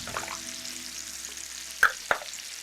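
Garlic powder, coriander powder and green chili paste are stirred in a frying pan, giving a soft low sizzle with two sharp spoon scrapes near the end.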